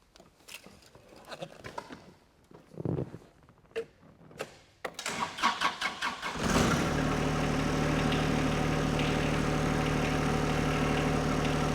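A John Deere 2025R compact tractor's engine idles: after some scattered knocks and clatter, the engine catches and settles into a steady, loud, continuous rumble held for several seconds.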